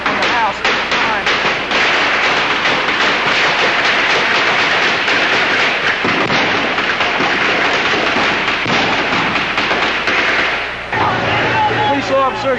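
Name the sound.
gunfire from a house, archival news recording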